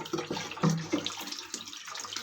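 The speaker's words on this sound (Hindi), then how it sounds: "पानी बंद नहीं हो रहा है" Water keeps running into a toilet cistern whose float valve fails to shut, a steady hissing gush with a few small splashes and gurgles, close by.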